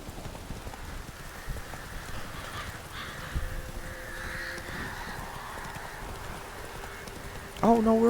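Roach the horse clip-clops along in The Witcher 3, steady hoofbeats under ambient rain and crow calls, with a brief voice cutting in at the end.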